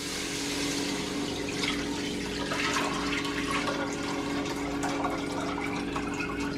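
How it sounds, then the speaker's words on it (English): Cool water pouring steadily into a large pot, set on a stovetop over high heat for boiling potatoes, a continuous rushing splash close by with no talking. "We're going to add some cool water."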